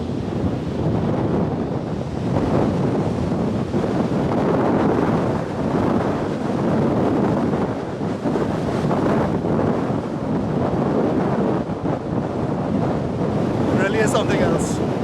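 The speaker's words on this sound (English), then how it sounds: "That's still the jet power there." Jet engine blast roaring at a plane-spotting spot, a loud, continuous broadband rush with heavy wind buffeting the microphone throughout, steady and close, with brief higher-pitched whine near the end.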